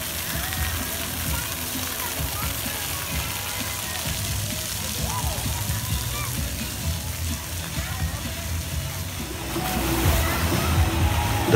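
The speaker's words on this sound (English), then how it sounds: "we come to a kid's splash zone here" Water splashes and sloshes at a kids' splash zone beside a resort pool, a steady wash of spray continuing throughout and swelling louder near the end, with faint children's voices mixed into the background.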